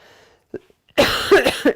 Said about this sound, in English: You'll have to excuse the cough.